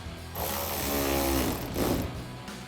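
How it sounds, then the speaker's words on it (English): A Phillips screwdriver or socket tightens a screw holding a plastic fender flare on a RAM 1500 pickup, giving a close, steady grinding whir with a brief pause partway through and no talking. "Now we'll tighten this up with our Phillips head screwdriver or your Phillips head socket."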